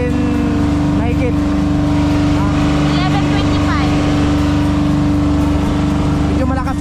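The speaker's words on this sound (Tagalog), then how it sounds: "Mabilis talaga ang takbo ng bangka na to." Motorboat engine running hard as the boat moves fast through choppy waves, a loud, close, steady drone that continues throughout while people talk over it.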